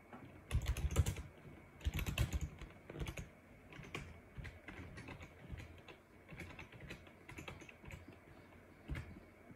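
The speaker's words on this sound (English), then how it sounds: "we need to type in the passphrase for using the private key" Computer keyboard typing in a quiet room, a quick run of close key clicks with a few heavier strokes, then sparser taps trailing off.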